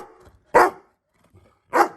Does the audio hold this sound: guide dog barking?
yes